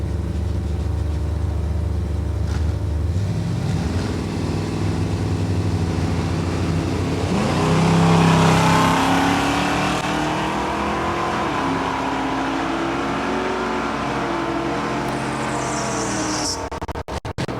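A 1970 Chevrolet Nova bracket racing down a drag strip in a final round: a low engine drone rises into a loud revving surge, then fades into a steady roar as the car runs on.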